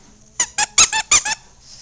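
A squeaky rubber dog toy, a pink sheep given to an English bulldog at Christmas, squeaks six times in quick close bursts, loud and near, with no talking.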